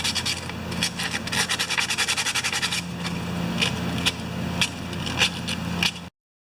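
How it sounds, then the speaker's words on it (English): Rough sandpaper rubs over a rusted metal lid from a John Deere snow blower in quick back-and-forth strokes, a fast scratchy rhythm at first that slows into spaced, separate swipes before stopping abruptly. "Now I'm doing a little rougher sand on the lid here, because it's rusted a little more."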